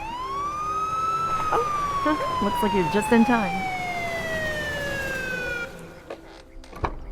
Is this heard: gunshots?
no